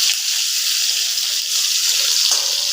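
Chopped onions dropped into hot oil give a steady, bright broadband sizzle that fills the whole stretch, loud and close, with no talking.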